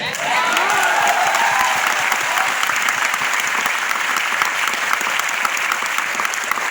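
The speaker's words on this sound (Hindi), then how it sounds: "थैंक यू सो मच आपकी तालियों के लिए।" Steady, dense applause from a large audience, continuous and loud throughout with a faint voice briefly audible near the start.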